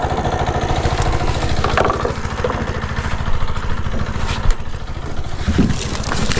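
The engine of a water pump machine runs loud and close, a steady rapid chugging throb with a few faint background knocks.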